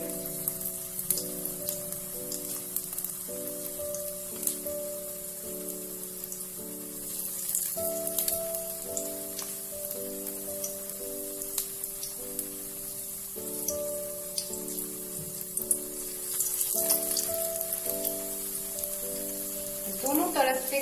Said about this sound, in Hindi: दोनों तरफ से गोल्डन ब्राउन करते हुए हम इसे फ्राई करेंगे